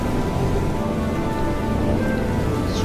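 Steady, loud rain from a thunderstorm in the game Far: Changing Tides, with a dense hiss and low rumble running throughout and no voices.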